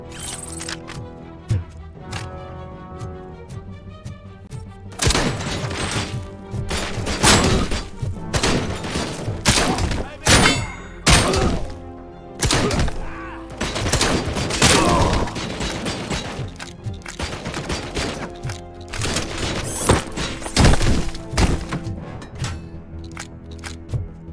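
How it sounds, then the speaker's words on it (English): Combat shotgun blasts in the RoboCop: Rogue City video game, a rapid string of loud, sharp booms beginning after a quieter opening, with mechanical clacks between shots and game music beneath. "Combat shotgun."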